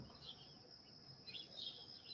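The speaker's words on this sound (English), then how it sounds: "Hopefully also you're noticing the sounds around me with the birds." Birds sing outdoors in the early morning, with faint, high chirps and short warbling phrases scattered over a quiet background, distant and soft.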